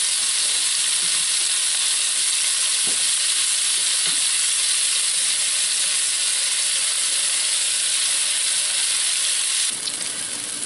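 Onions fry in a copper pan with a loud, steady, close sizzle throughout, broken only by a couple of soft utensil taps and no talking.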